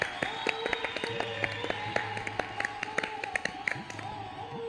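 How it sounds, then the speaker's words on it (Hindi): An audience at a poetry gathering applauds with many quick, overlapping hand claps at a steady, moderate level, while a low sustained musical hum runs underneath. "जोरदार तालियां इस महफिल के लिए"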